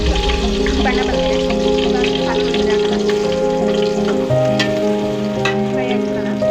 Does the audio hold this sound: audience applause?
no